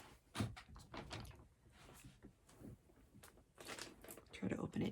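Crinkling and rustling of a plastic bag being opened, close and continuous, with a person talking at the same time.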